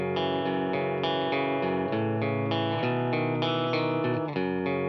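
Guitar strumming a chord riff, each chord struck in a steady even rhythm and left to ring into the next, clear and close with a chorus-like shimmer and no talk.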